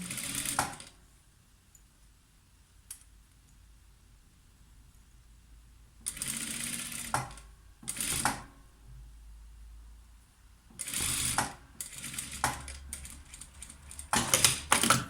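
Several short bursts of sewing machine stitching a zipper into a flared skirt, separated by quiet pauses, with one burst at the end coming in quick succession; no talking.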